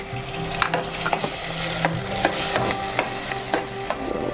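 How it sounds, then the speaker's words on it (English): Minced medium onion mixed with garlic cloves sweating in two tablespoons of oil, a steady soft sizzle broken by the scrape and clack of a spoon stirring, close and alone without talk. "We're gonna sweat the onion just for a second here"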